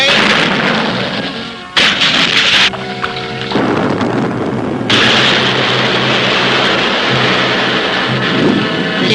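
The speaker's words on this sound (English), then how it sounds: "Depth charges in place, sir. Good. Fire away." Depth charge explosions in a 1966 animated cartoon: loud, sustained booming rumble with sharp bursts and crashing surges, dense and continuous with no talk over it.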